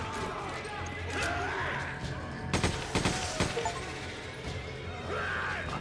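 Gunfire in the survival horror game Resident Evil 5: scattered sharp shots and bursts, several loud cracks clustered in the middle, over ambient game noise and some voices.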